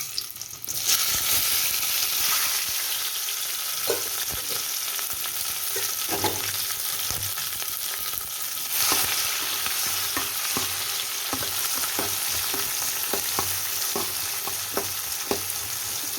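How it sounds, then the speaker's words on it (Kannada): Onion, chana dal, curry leaves and green chilies fry in a pan of tempered mustard seeds, a loud continuous sizzle broken by regular scraping and tapping of a stirring spoon throughout. "ಕಡಲೆಬೇಳೆ ಹಾಕಿದ್ಮೇಲೆ ಕರಿಬೇವು ಹಸಿಮೆಣಸಿನ್ಕಾಯಿ ಈರುಳ್ಳಿನ ಹಾಕ್ತಾ ಇದ್ದೀನಿ"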